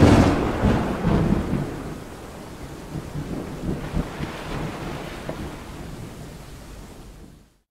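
A thunderstorm rolls over a river at night: a loud opening crack of thunder fades into long, low rumbling, with steady rain hiss and gusting wind throughout before the sound cuts off.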